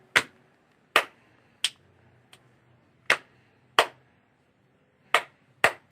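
A single pair of hands claps out a sparse rhythmic pattern, eight or so crisp, close claps separated by pauses, some spaced evenly and a quick pair near the end, with nothing else behind them.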